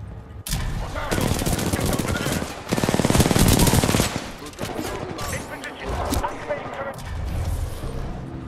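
Heavy automatic gunfire from weapons in the video game Titanfall 2, loud sustained bursts and rapid shots with short pauses, densest in the middle of the stretch, alongside other game action.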